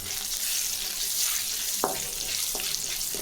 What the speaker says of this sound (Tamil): கடுகு உளுத்தம்பருப்பு எல்லாம் நல்லா பொரிஞ்சிச்சுங்க